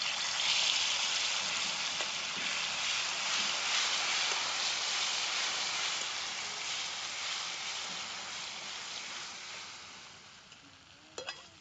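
Oil spits and sizzles steadily in a kadhai on a wood-fired chulha, a close, even crackle that fades a little toward the end, with a few small clinks at the close.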